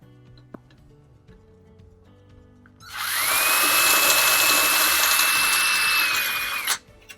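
A power drill bites into the head of a rivet in a Dell Optiplex computer case, giving a loud, close, high whine that lasts about four seconds and then stops abruptly. Quiet room tone comes before it.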